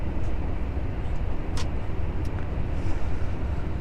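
Truck cab rolling along a rough tarmac country road in Romania, a steady low broadband road roar with a couple of brief clicks or bumps, constant and fairly loud throughout.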